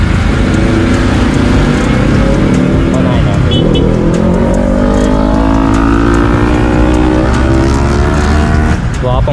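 A Yamaha R15 V4 motorcycle exhaust revs loud and close, engine pitch rising and falling through sustained high-rpm pulls in traffic, with a rider's voice over it.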